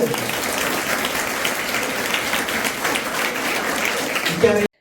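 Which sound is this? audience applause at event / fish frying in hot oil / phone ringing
audience applause at event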